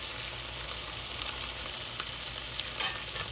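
Beef steak frying in oil in a pan, giving a steady, dense sizzle that runs evenly throughout with no voices.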